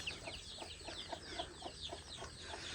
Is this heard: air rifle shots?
no